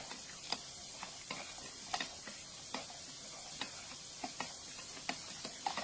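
Beef bouillon being stirred into a spaghetti meat sauce, with a steady series of light spoon taps and scrapes against the pot, about every half second, over a faint sizzle.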